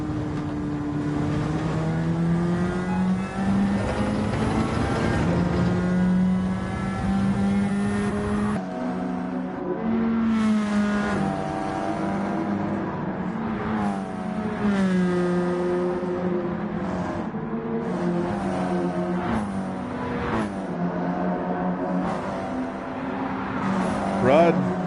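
Race cars circle Watkins Glen in the game Gran Turismo 7, a CASCAR Cup Series stock car race, with steady engine drone and shifting pitch throughout while a commentator talks over it continuously.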